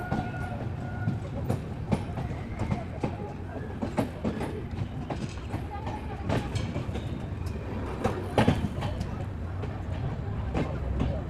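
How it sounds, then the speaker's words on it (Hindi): A Bikaner–Prayagraj superfast express train pulls into Jaipur Junction, a steady rumble of rolling rail cars with faint wheel clatter and occasional sharper clanks, loud and continuous with some voices mixed in. "दोस्तों ये ट्रेन आ चुकी है इसके 9वें हॉल्ट जयपुर जंक्शन पर"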